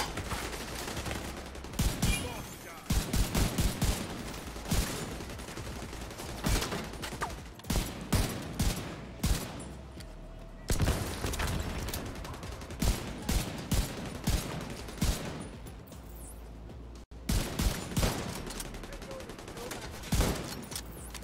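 Gunfire rattles through a firefight in The Division 2, with rapid automatic bursts and single shots repeating across about twenty seconds and brief lulls between them.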